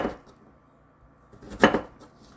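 A knife cuts radish into thin julienne strips on a board, heard as a couple of sharp chopping knocks, one at the start and a louder one after a quiet pause.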